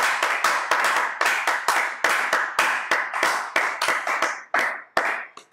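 A church congregation at a French-language midday prayer service claps to acclaim the Lord, sharp loud hand claps in a quick uneven rhythm that thins out toward the end.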